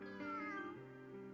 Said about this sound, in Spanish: ¿Dejó salir a su gato?